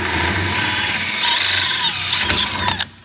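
An electric drill fitted with a lubricated D7 bit bores into a steel workpiece, whirring loud and close with a grinding edge before stopping abruptly near the end, with no speech.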